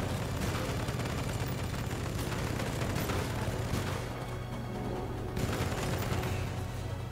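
Sustained heavy gunfire from an overheating weapon in the video game Solstice Chronicles: MIA, a loud, dense continuous barrage of rapid shots with a brief dip midway before resuming.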